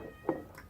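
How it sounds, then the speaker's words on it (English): A pet cat gives one short, faint meow indoors, heard alone against quiet room noise. "If you hear meowing"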